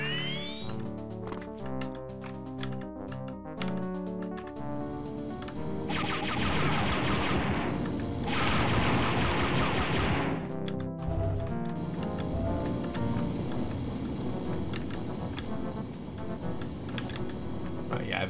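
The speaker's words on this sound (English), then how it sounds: "Ceiling turrets." Rapid bursts of ceiling turret fire in Star Wars: Dark Forces, a dense crackling barrage over game music and clatter, swelling louder in the middle stretch before easing back into the busy mix.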